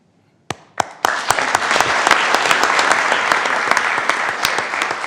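Sudden burst of applause at a city council meeting that quickly swells into steady clapping, with a few sharp individual claps standing out.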